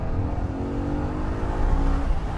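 A naturally aspirated V8 Audi RS5 coupe drifts with oversteer, its engine droning steadily and loudly up close for a couple of seconds with no speech.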